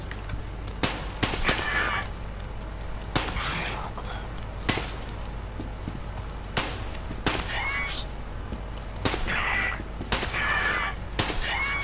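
Gunshots fired at a mutant in the video game Metro Exodus, sharp cracks spaced irregularly over a low, steady background rumble, with a few quicker bursts in between.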